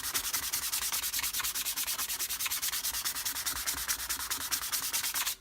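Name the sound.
scuffing up red oak wood surface before staining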